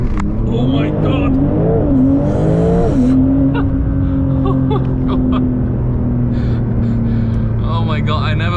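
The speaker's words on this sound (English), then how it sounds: "let's now do a launch control of this car" A TECHART-tuned Porsche 911 992 Turbo S rated at 710 hp launches hard from a standstill, its engine climbing through rapid rising revs and quick gear changes before settling into a loud, sustained drone with a brief tire chirp.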